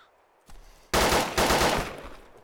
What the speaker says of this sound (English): there's someone firing towards the fire station